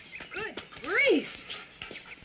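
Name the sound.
dog panting and whimpering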